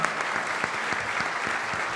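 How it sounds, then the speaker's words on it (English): An audience claps steadily after a keynote at a food and friendship event, a dense, even wash of applause with scattered sharper claps, no voices over it. "Give Donovan a round of applause."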